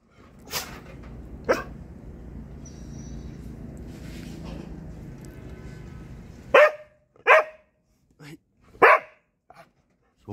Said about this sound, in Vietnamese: Tiếng sủa nó rất là lớn.